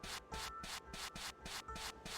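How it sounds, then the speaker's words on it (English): The character walking sound in the video game Kinduo is a rhythmic, grating scratchy rasp, repeating in quick even pulses like sanding strokes, close and alone throughout. "that is the walking sound"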